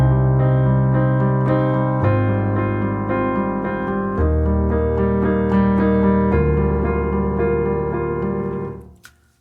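Chord progression from a song played in a minor key on a sustained keyboard-like instrument, slow held chords changing every couple of seconds before fading out, with no voices.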